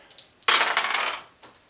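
Dice roll for initiative in a tabletop role-playing game, a quick clattering rattle of tumbling dice close by, lasting under a second and then settling, alone without talk.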